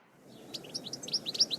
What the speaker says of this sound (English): The goldfinch bird, a bright colored bird, singing bird.